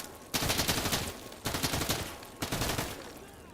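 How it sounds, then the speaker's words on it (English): Gunfire in the video game GAMMA, three loud bursts of rapid automatic shots, each lasting about a second, with clear gaps between them. "So I'm just gonna shoot him as well."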